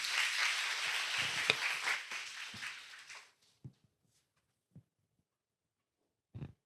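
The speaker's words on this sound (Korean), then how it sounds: "이지팀 큰 박수로 맞이해 주시기 바랍니다" Audience at a university student advertising competition applauds a presenting team: about three seconds of full clapping that tapers off into near silence, broken by a few isolated taps.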